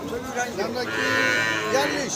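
Cattle lowing at a busy rural livestock market in Thakurgaon, Bangladesh, where local and crossbred heifers are sold; a sustained, loud moo stretches through most of the moment over a steady background hubbub.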